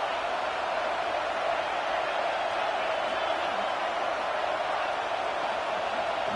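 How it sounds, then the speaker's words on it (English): A big college football crowd in Happy Valley roars on third down, a steady, dense wash of noise that holds at even loudness throughout without letting up. "Here comes the noise from this big crowd in Happy Valley on third down"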